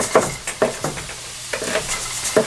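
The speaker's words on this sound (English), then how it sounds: "I'm going to add a little of that bacon into it and into the crock pot" Rendered cooked bacon being stirred and scraped into a crock pot for beef and bean chili, a series of short, close utensil knocks and light sizzling scrapes at an uneven rhythm.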